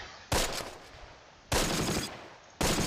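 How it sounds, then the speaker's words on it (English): Artillery barrage in the war game Close Combat: Last Stand Arnhem, heard as three loud, close explosive blasts at roughly one-second intervals, each sharp onset trailing into a rumbling decay. "I can't believe how this artillery barrage is missed"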